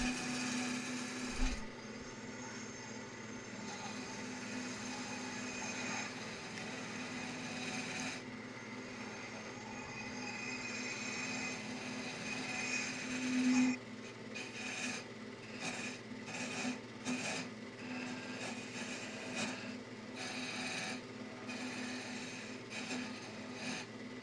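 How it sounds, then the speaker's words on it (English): A small gouge trims wood to shape a bandsaw sled handle, giving quiet rasping, scraping cuts in uneven strokes close by over a soft steady background hum, with no talking. "It removes quite a bit of material at one go then, and it's quite controllable being a small gouge."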